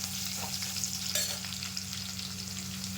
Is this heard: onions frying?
yes